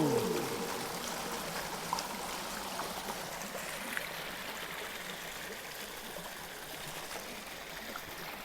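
Water pouring from a drain-off pipe onto a beach, a steady broadband rush and trickle, moderately loud and continuous, with faint outdoor background and no talk.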